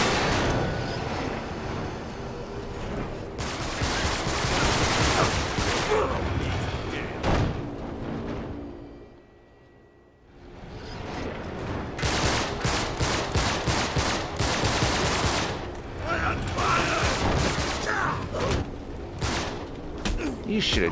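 Gunfire in the video game Uncharted 3: Drake's Deception, loud sustained bursts of automatic fire and booming shots over desert sand, dropping out briefly midway before resuming in rapid repeated volleys.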